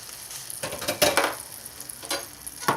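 Butter melts in a saucepan over very low heat, with soft intermittent sizzling and scraping stirs close by, rising and fading in short bursts without talk.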